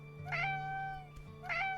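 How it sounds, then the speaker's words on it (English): Two recorded cat meows played from a novelty sound button, each short, clear and tonal, about a second apart over a faint steady background hum. "I have a button that meows."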